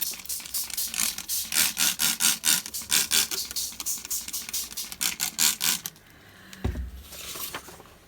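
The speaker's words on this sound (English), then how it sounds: "let's spray it." Rapid bursts of hissing spray paint repeat in a steady rhythm for several seconds, close by, then stop with a soft thump and quieter rustling.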